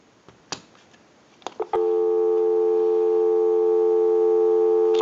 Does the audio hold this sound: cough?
no